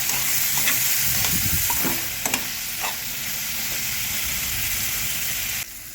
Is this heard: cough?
no